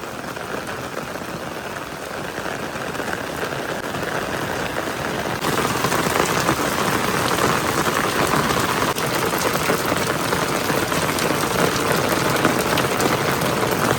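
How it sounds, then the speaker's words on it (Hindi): Heavy rain pours down in a dense, continuous hiss of drops that grows louder partway through and keeps going without a break. "इतनी तेज़ बारिश पड़ रही है।"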